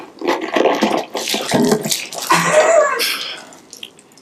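Water bursts and splashes as a balloon rips inside a bottle, a loud close gush with sloshing and dripping that tapers off over a few seconds.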